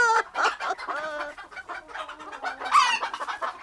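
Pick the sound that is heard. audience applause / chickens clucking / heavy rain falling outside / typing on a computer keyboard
chickens clucking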